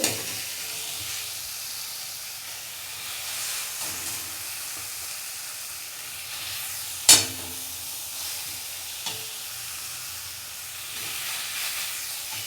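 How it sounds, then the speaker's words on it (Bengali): Raw fish pieces go into sizzling oil and cooked-down masala for a fish curry, producing a steady hiss and sizzle with one sharp clack midway and a softer knock shortly after. "এবারে আমি দিয়ে দেবো মাছগুলো"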